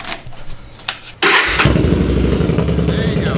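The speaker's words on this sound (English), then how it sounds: "I'll start it right now." A Yamaha Bolt motorcycle engine starts: a few faint clicks and a short crank, then the engine catches abruptly and settles into a loud, steady, rumbling idle close by.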